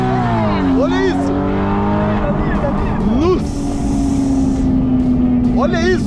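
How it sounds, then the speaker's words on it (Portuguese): Exotic sports car, a Ferrari or Lamborghini, revving hard through curves, engine pitch rising and dropping with gear changes and downshifts, loud and close, with excited voices shouting over it. "Dá pra ir acelerando. Olha a reduzida dele!"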